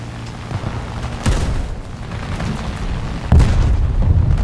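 Bombs explode in a War Thunder air battle, with two heavy booming blasts about two seconds apart over a continuous low engine drone, close and loud.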